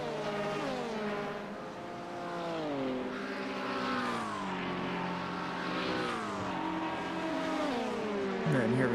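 LMP2 race cars racing at Road America scream past with loud, high-revving engines, pitch rising and falling through repeated gear changes as they chase each other, the sound staying close and continuous throughout.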